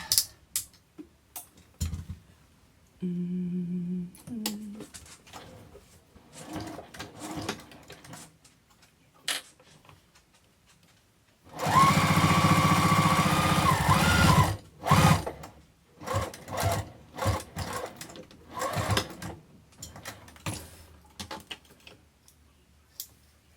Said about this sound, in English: I'm going to sew this side, and then I'll put on the binding and sew the other side.